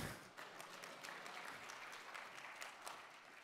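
An audience at the Unite 2016 keynote applauds with dense, steady clapping that continues throughout, fairly faint overall.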